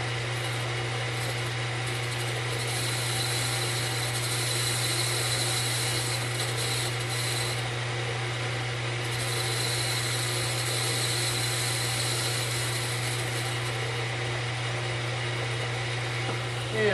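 A lathe skims the tire tread of a wheel in a workshop, giving a steady, continuous mechanical hum and whirr that holds for the whole stretch with slight swells.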